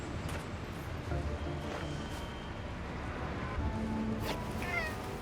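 A cat meows a few times in Marvel's Spider-Man: Miles Morales over a steady, murky background rumble; the mews are soft and scattered rather than loud.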